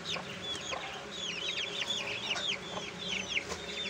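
Chicks from an incubator chirp in a dense, overlapping chorus of high peeps, close by and continuous, with a faint background hum.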